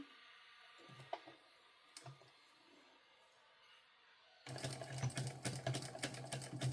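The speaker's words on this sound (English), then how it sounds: "I will be sewing yet again here, so it should lock in those stitches pretty good" A sewing machine runs in a steady continuous burst while stitching cotton canvas for a sling bag, starting after a few faint handling clicks and carrying on loud and close to the end.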